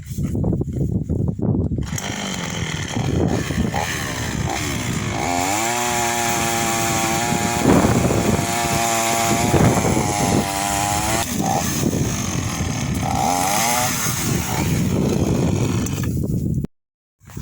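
A chainsaw cuts firewood up close, its engine loud and steady, rising and falling in pitch as the chain bites into logs, running continuously for most of the stretch before cutting off at the end.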